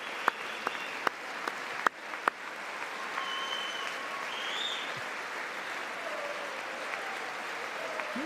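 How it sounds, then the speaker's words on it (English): Military audience applauding at an event, with a few sharp claps early on followed by a steady, sustained wash of applause and faint cheering that continues throughout. "We got the military cheering,"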